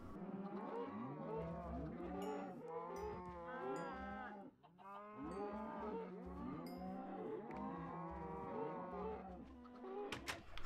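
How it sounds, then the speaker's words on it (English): Minecraft cows mooing in a survival game farm scene, a series of low, drawn-out moos overlapping one after another, fairly close and continuous, with no talking. "Thank you, cows, for your delicious beef and your leather."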